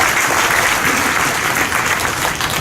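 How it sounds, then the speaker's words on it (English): An audience applauds steadily for a volunteer coming up on stage at a live magic show, a loud, dense clatter of clapping that holds without a break from start to finish. "Everybody give Alfred a big round of applause."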